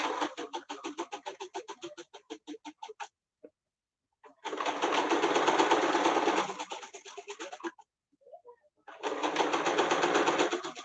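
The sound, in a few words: sewing machine stitching a fabric face mask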